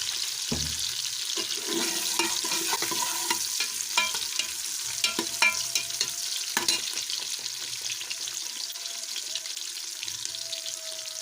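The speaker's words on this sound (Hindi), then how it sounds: "प्याज़ों को हम अच्छा सा पिंक कलर आ जाए इतनी देर तक हम इसको पकाएंगे" Onions frying in a pan until pink, a low steady sizzle broken by repeated spoon scrapes and clinks against the pan, with a brief louder clatter midway and some watery hiss underneath.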